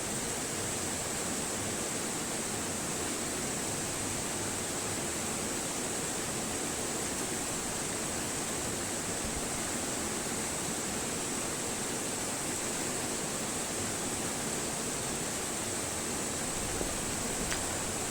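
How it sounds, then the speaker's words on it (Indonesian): River water at Kali Jompo plantation in rural Jember, a steady, unbroken rushing wash that holds at the same level throughout with no voices. "Akhirnya saya memutuskan untuk menikmati air sungai, mendengarkan suaranya"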